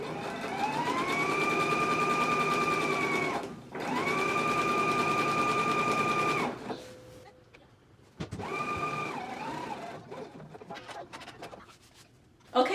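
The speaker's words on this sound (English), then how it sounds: "So now I'm gonna go ahead and baste it together" A sewing machine basting muslin pants made from a sheet runs in two long steady bursts with a brief pause between, then stops and restarts for a shorter stretch amid light handling noises.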